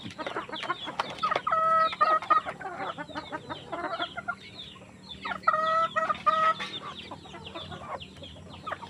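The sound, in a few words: chickens clucking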